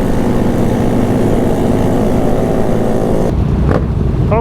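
A group of motorcycles rides together on the road, including a 2021 Yamaha MT-09, a loud continuous engine drone mixed with heavy wind rush that drops off briefly near the end.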